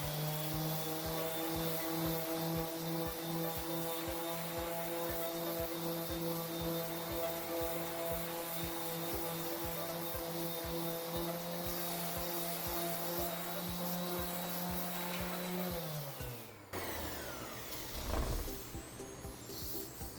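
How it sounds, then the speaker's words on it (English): A power sander with an electroplated diamond pad grinds continuously against concrete with a steady droning whine, then winds down and stops near the end. "So I'm going to sand just this half"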